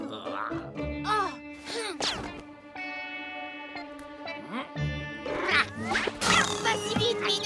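A cartoon cat meows in several stylized, effect-processed calls mixed with music and sound effects, loud and close throughout.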